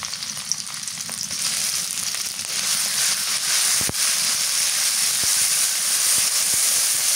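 A pot of curry with egg and cauliflower cooks on the stove with a steady, loud sizzle and bubbling that runs the whole time, broken by a few sharp clicks.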